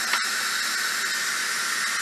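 Steady, loud hiss of steam venting from an Instant Pot while cooking pinto bean soup, a continuous close rush of air that holds evenly from start to finish.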